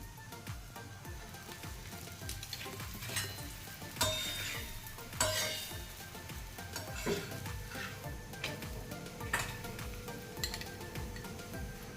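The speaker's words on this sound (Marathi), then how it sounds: "आता तव्यावर चांगलं आपण भाजून घ्यायचे।" Methi paratha cooking with oil on a griddle, a soft sizzle mixed with intermittent clinks and scrapes of a spatula against the pan, fairly quiet with no voices.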